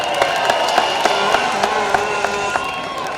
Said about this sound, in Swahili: Tuwapigie makofi mazuri sana wanapoketi